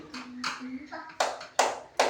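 Children in a classroom clap their hands in a few sharp, uneven bursts, with a brief voice heard between the first claps before three louder claps follow.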